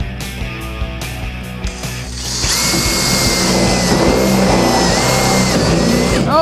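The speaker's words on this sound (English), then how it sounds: "Drilling moisture relief valve." A power drill whirs up and runs steadily at high speed, boring a moisture relief hole in a van, close and loud after a few clicks and knocks.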